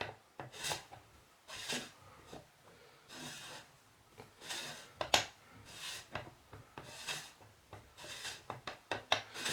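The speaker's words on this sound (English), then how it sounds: "you just unscrew it all the way out" Part of a Mak 127 telescope being unscrewed, giving repeated soft rasping, rubbing turns in a steady back-and-forth rhythm, close and quiet with short gaps between strokes.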